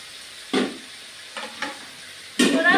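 Papaya pieces go into a pan of mutton curry, making three short bursts of sizzling and stirring scrapes separated by quiet pauses, close up.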